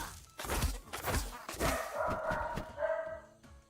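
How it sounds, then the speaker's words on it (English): A dog barks several times nearby, sharp repeated woofs with a whine or yip between them, heard over a background voice and some tonal game sound. "Don't worry about the dog. It's fine."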